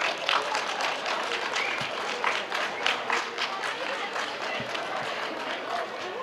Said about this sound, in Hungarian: kérem, tapsoljuk meg őket!